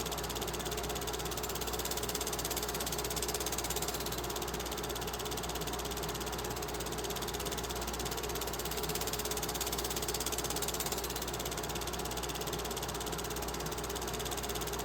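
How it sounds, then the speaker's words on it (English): A Southern Railway switcher locomotive reversing through the rail yards, its diesel engine idling and chugging in a steady, moderately distant drone with a faint, even knock throughout. "Southern switcher making its reverse movement here in the yards"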